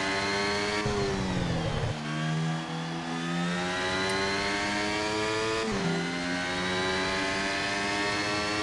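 Steady, high-pitched whine of an F1 racing car engine in the F1 Mobile Racing video game, rising through gears with two clear downshifts while overtaking an Alpine before a chicane, continuous and fairly quiet with no talk.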